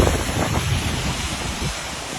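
Floodwater surges in a strong current past a partly collapsed bridge, a loud, continuous rushing roar mixed with wind buffeting the microphone, and no voices.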